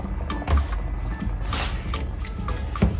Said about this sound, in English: We're going to go in with a cup of beef broth.